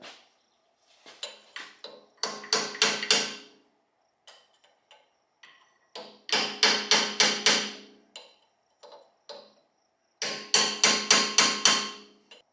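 A drift punch struck repeatedly with a hammer while rebuilding a hydraulic lift cylinder on an old Ford tractor, coming as three bursts of rapid metallic blows, each burst of about five close strikes, with scattered lighter taps in between.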